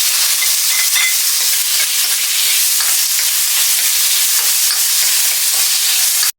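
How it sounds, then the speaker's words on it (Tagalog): Onion, tomato and ginger sauté in hot oil for shrimp sinigang, giving a steady, loud, close sizzle and hiss that runs unbroken throughout. "Igisa lang natin ang sibuyas, kamatis at luya."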